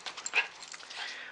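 A small dog gives a few faint, high, brief whimpers and yips, close by and quiet, with no other sound over them.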